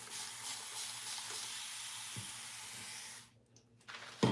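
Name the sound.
wetting and lathering a shampoo bar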